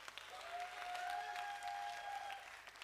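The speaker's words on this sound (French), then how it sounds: "Ça s'applaudit, les gars." Audience applauding at a festival concert, a broad wash of crowd clapping heard at a distance, with a faint sustained whistle-like tone rising over it partway through.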